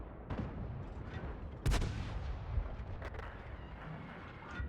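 A Kampfpanzer 07 RH tank gun in a tank video game fires one loud heavy boom in the middle, preceded and followed by softer distant gunfire thumps over low rumbling background noise.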